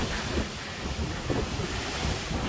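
Ocean waves and sea spray rush past the deck of the cruise ship Freedom of the Seas at sea, a steady, loud wash of surf blended with heavy wind buffeting the microphone.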